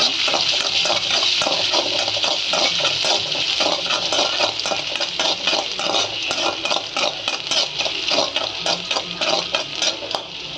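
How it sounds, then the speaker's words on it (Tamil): Ginger and garlic fry in a pan for fried rice, making a loud, dense, continuous sizzle with crackling pops and no talking. "இது நல்லா பொரிச்சு வரட்டும். இப்போ நல்லா வதக்கிக்கலாம்."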